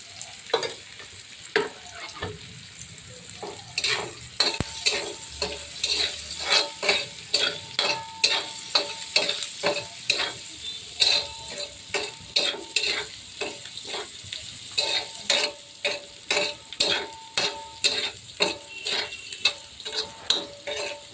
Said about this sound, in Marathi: आपला कांदा छान भाजत आलेला आहे आता आपण त्यामध्ये तेल घालणार आहोत